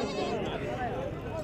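A goat bleats amid the bustle of a busy livestock market, close and clear over a steady crowd murmur, with people talking nearby throughout.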